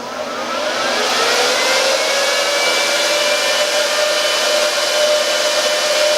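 A loud, steady fan roar from an Antminer Z9 crypto miner starting up, swelling quickly over the first second and then holding at full speed with a faint whine running through it.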